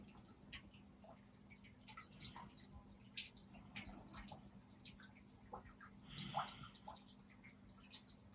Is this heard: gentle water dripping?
yes